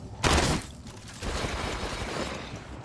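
Gunfire in the Apex Legends Mobile video game: one sharp, loud burst of shots, then quieter, scattered firing and ambient battle noise.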